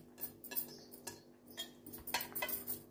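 Spoon scraping and clinking in a bowl while raw chopped onion is mixed into mashed eggplant and tomato, several light metallic taps and stirring scrapes at close range, no talking.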